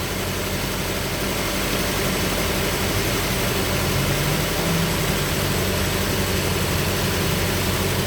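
An Acura Integra's engine idles steadily while left in gear, a loud, constant low rumble with a broad vibrating hum and no change in pitch throughout.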